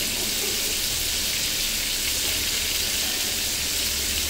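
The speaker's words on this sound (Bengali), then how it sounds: "এখন আমি উল্টে পাল্টে সব ভেজে নিচ্ছি, সুন্দর মতন ভেজে নেব।" Shell-on shrimp fry in a pan with a steady, close, hissing sizzle that stays even throughout, with no talking.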